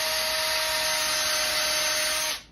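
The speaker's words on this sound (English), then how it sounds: "I'm going to pre-drill a hole right here" A power drill pre-drilling a hole in wood whines at a steady high pitch for about two seconds, then spins down and stops.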